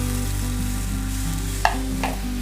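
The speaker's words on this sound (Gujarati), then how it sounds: "હવે આપણે જે છાશ અને ચણાનો લોટને મિક્સ કર્યો હતો તે આપણે એડ કરી દઈશું" A buttermilk and gram flour mixture goes into a hot, sizzling tempering for kadhi, giving a steady frying sizzle with a couple of brief stirring or pouring splashes near the end.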